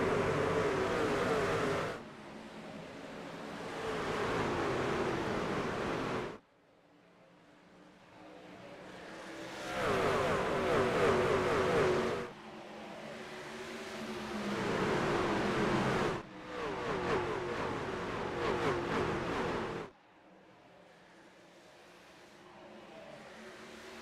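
Sim-racing trucks at Rockingham roar past in a pack during a truck series race, engines swelling and fading in repeated loud waves of revving with brief quieter gaps between passes.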